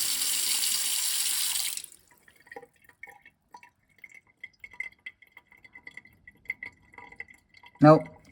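Running water stops, then scattered drips and faint gurgles of a sink draining past a faulty plug in a quiet room, ending with a sharp clunk.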